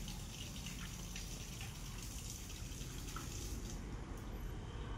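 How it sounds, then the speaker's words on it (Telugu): Gear oil pours from a cup into the gearbox of a Shaktiman rotavator, making a steady, continuous liquid gush that runs unbroken throughout. "కప్ ఎక్కిచ్చేసి అందులో ఆయిల్ పోస్తున్నాడు"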